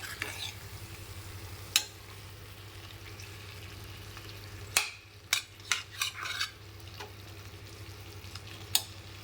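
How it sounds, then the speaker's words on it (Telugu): Chicken and egg curry fries in a pan, a soft steady sizzle broken by a few sharp clicks and scrapes as a spoon stirs the pan. "ఇవి ఫ్రై చేద్దాం ఇప్పుడు బాగా"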